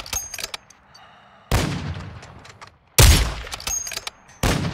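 Incendiary rounds are fired in a video game hunt, with loud close bursts of rapid gunfire in three separate volleys, each cracking hard and then trailing off.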